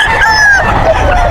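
A bull stag rooster crows at a busy pet market in Bocaue, a single long drawn-out call that sounds close and loud over the market din.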